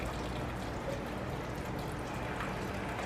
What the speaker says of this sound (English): Then I'm going to add vegetable stock.